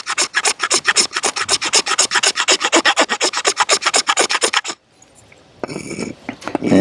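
A cheap Chinese magnesium firestarter bar is scraped hard and fast in a long rhythmic run of loud, rasping strokes, then a brief pause and softer scraping at the end.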